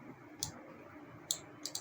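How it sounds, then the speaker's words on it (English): Sharp computer mouse and keyboard clicks during 3D modeling work in Maya, heard close and fairly quiet: a single click, a pause, then a spaced click and a quick double click. "I'm pressing the shift button in the keyboard and the right mouse button"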